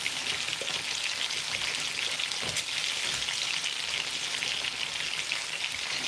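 Steak sizzles steadily in a pan beside caramelizing onions, a dense, even frying hiss close to the microphone that carries on without a break and without speech.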